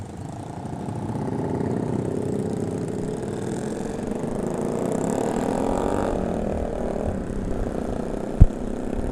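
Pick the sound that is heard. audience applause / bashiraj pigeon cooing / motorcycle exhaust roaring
motorcycle exhaust roaring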